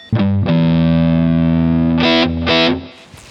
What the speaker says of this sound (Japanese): というわけですごく優秀なオーバードライブです